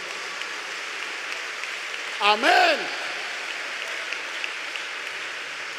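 A church congregation gives a steady, rain-like wash of applause during a sermon, while someone briefly speaks over it.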